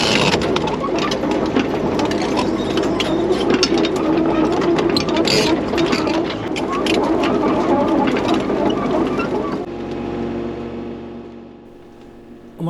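A Caterpillar tracked machine pulls a log trailer, its engine running loud and steady for about ten seconds before easing down to a lower, quieter rumble.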